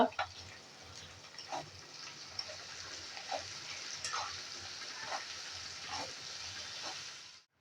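Tempering for vatli dal crackles in a pan with fried coconut and salt, a soft continuous sizzle with scattered pops and stirring scrapes, fairly quiet and fading out at the end.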